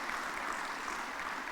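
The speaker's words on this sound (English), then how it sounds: "Let's have a huge round of applause for him" Steady crowd applause at a 2022 graduation ceremony, dense continuous clapping from a large audience that fills the whole moment without pause.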